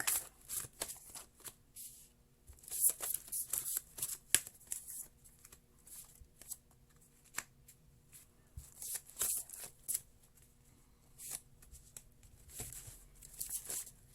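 Tarot cards are shuffled repeatedly in quick, crisp riffling bursts with short pauses between, close and fairly quiet, with no talking.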